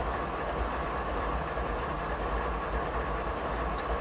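A freight potash train in Train Simulator 2015 rolls westbound downhill through Canadian mountain passes, with a steady low engine rumble and continuous rail noise at moderate, even volume and no talking.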